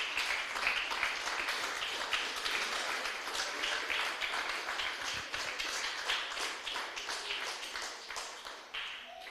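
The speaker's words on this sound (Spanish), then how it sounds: "Dale un aplauso fuerte al Señor, aleluya." A church congregation applauds loudly for the Lord during a Spanish-language sermon, a dense, steady roar of many hands clapping that holds for the whole stretch without speech.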